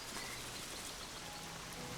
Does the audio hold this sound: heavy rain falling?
yes